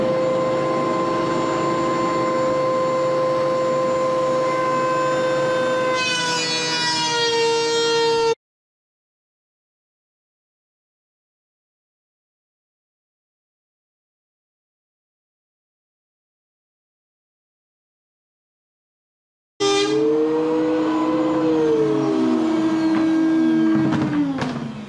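A woodworking machine, likely a planer, milling rough-sawn boards, running as a steady loud whine with pitch shifts as stock feeds through. It cuts out into a long silence, then starts again loudly.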